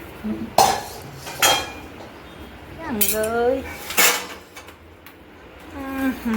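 Mandvi pak sweet being cut into pieces with a metal utensil, giving several sharp clinks and scrapes against the tray, with brief voices and tonal chatter in between.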